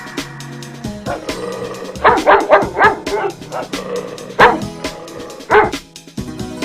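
A dog barks in a children's alphabet lesson, several loud, sharp barks in quick uneven bursts, with a few separate yaps later, up close and clear with no talking over them.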